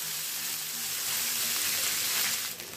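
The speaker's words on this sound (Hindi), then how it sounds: "इसको हमें एकदम अच्छी तरह से भूनना है और इसको हल्का ब्राउन होने तक भूनना है।" Dried potato pieces (sukhauta) fry steadily in hot oil until light brown for an aloo sahjan sabzi, a continuous close sizzle with no pauses and no talk.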